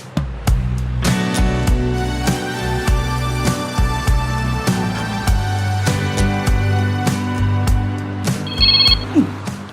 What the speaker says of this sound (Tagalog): Ada umawawag iti cellphone ko.